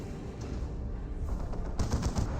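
Bursts of gunfire in a Dawn of War battle strike an Eversor Assassin: a steady low rattle of shots that grows into louder, denser volleys near the end.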